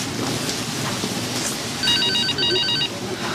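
A telephone rings in two short electronic bursts over a background hiss, moderately loud.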